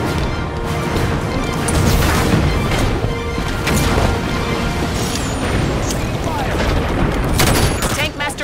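Dense, continuous gunfire and explosions from a fleet in the Halo Wars video game, with rapid bursts of shots and booms layered throughout, loud and unbroken from start to finish.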